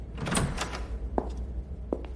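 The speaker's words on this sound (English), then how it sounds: "Close the door." A door closing in an office, a rustling swish followed by two short muffled thuds spaced apart, close and moderately loud over a low room hum.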